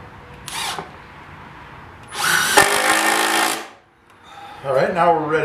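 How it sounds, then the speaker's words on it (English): A power drill bores a hole in a board in two bursts. The first is short, and the second is longer and louder with a whining motor that winds down. A brief tool noise follows at the end. "drill second hole."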